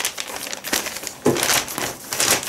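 Ozon-branded plastic packaging bag crinkling and rustling up close in irregular bursts, fairly quiet, with no talking.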